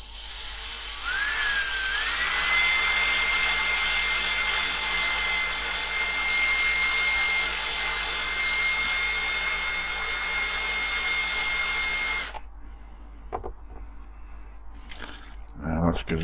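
A small electric drill whines steadily as it bores out the rivets of a Corgi 268 Green Hornet Black Beauty die-cast model, its pitch settling after a brief rise, before stopping for quieter handling noises.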